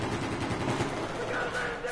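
Dense gunfire fills a Battlefield 4 match, with rapid overlapping shots and bursts that form a loud, continuous roar of automatic weapons close by, while voices talk faintly in the background.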